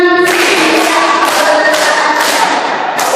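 Group of teachers at a school training session clapping together in a counted clap pattern, a dense, loud burst of many hands that fills the whole moment without clear pauses.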